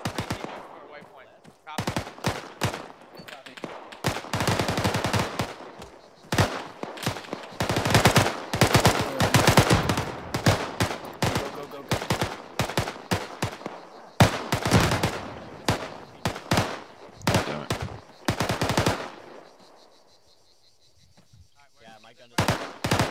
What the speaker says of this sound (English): Yeah, they're shooting at guys.